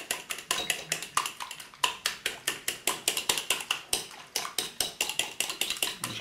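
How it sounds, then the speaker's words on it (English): A fork beats crushed egg yolk in a bowl, giving a steady, quick run of light clinks and taps against the bowl that keeps going without a break and sounds close by. "get a fork, crush your yolk, give it a good mix up."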